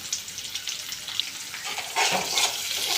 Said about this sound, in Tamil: கொஞ்சம் ஆனியன் கருவேப்பிலை போட்டுக்கலாம் கடுகு பொரிஞ்சிருச்சு நல்லா வதக்கி விட்டுக்கலாம்